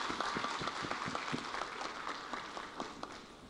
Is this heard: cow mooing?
no